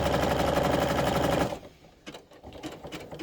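A sewing machine stitches a stocking cat toy in a fast, steady mechanical whir for about a second and a half, then stops, leaving faint handling clicks and rustles.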